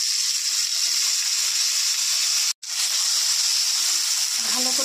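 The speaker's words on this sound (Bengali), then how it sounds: "ফুলকপিটা তেলে করে ছেড়ে দিলাম, একটু ভেজে নেব" Cauliflower and potato pieces fry in hot oil, giving a loud, constant bright sizzle with a steamy hiss, broken by one sudden brief dropout midway before the frying noise resumes unchanged.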